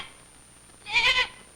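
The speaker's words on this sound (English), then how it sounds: "Look, Patty, Dad moved the new goats in here." Goats newly moved into a farm pen give a short bleat, a single bright wavering call of about a third of a second rising out of faint background quiet.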